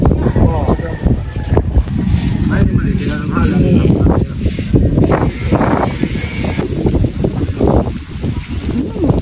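Strong wind buffets the microphone in a steady roar while a person talks over it outdoors at a beach on Bantayan Island, Cebu.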